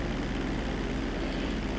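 An airplane flying low over a bridge in Grand Theft Auto V, a steady broad engine drone with constant propeller-like roar throughout and no talk.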